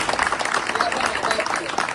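An audience at a public gathering for prison inmates, attended by an MP and an MLA, claps in a dense, continuous burst of close applause, with voices mixed in.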